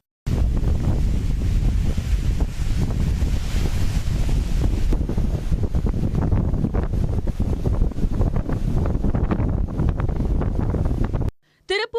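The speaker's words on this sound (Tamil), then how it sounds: "கடல் கொந்தளிப்புடன் காணப்படுகிறது." Rough sea off the Villupuram coast during a cyclone, with heavy surf and strong wind buffeting the microphone in a loud, continuous roar before cutting out near the end.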